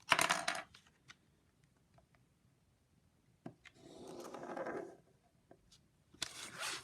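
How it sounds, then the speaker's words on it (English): A pen or pencil draws along a ruler across folded paper, making a close, continuous scratchy stroke of about a second, with brief rustles and taps of paper and ruler before and after. "I'm going to grab a ruler and we're going to draw across the folded"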